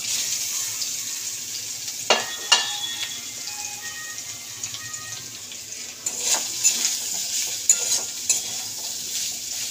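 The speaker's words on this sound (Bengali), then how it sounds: "এই যে আমি এটাকে ভেজে নিচ্ছি" Soybean chunks frying in hot oil give a continuous soft sizzle, broken by a few sharp clinks and scrapes of a utensil stirring the pan, close and fairly quiet.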